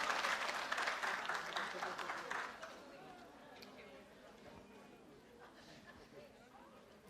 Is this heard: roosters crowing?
no